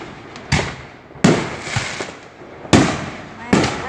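July 4th fireworks going off nearby, four or five sharp loud bangs spaced irregularly, each with a crackling tail, with people talking between them.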